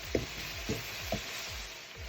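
Fenugreek leaves sizzling in a pan for murgh methi, a steady crackle with three soft stirring knocks spaced evenly through it, close and moderately quiet.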